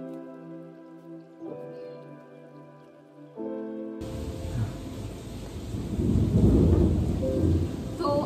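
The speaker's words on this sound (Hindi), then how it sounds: "बाहर बहुत बारिश भी हो रहा है, बहुत अच्छा मौसम है अभी।" Heavy rain pours outside with rolling thunder, the roar bursting in suddenly after a few quiet seconds of soft tonal sound and then building to a loud, dense wash.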